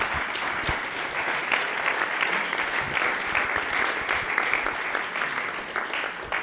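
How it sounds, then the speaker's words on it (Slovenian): Sustained audience applause at an evening startup sales event, steady dense clapping from a crowd filling the room throughout, fairly loud with no speech over it. "Super, en aplavz."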